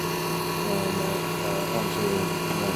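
An Allied High Tech 4000 sectioning machine blade spins at about 2,500 RPM, cutting with a steady, dense mechanical whine and grinding drone that holds constant throughout, close and fairly loud.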